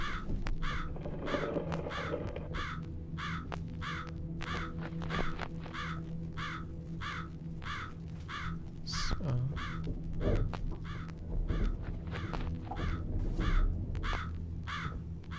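Crow cawing in the horror game Jisatsu, a steady run of evenly spaced harsh caws repeating throughout, over a low ambient drone with occasional soft thuds and footsteps.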